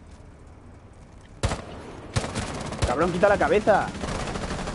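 Gunfire in a Rainbow Six Siege match, with a sharp shot, then a loud burst of rapid shots, while a player shouts excitedly over the firing.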